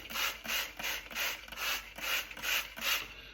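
A spray bottle spritzes water in a quick, steady rhythm, about eight hissing bursts in a row, close and fairly soft.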